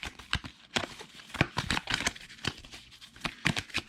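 Playing cards are shuffled for a Mandalorian-themed tabletop card game, giving close, crisp riffling and snapping bursts in an irregular rhythm with no talking.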